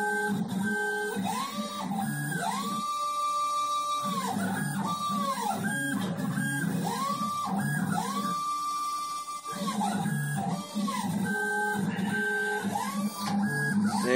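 A homemade mini CNC router engraver runs a 3D job, its stepper motors whining in repeating rising and falling tones with a steady buzzing hum, close and continuous.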